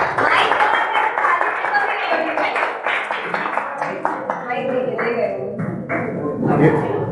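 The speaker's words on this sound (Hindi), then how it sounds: "जोरदार तालियां हो जाए" Enthusiastic audience applause at a Mother's Day open mic evening, dense and continuous clapping that fills the room for several seconds with crowd noise mixed in.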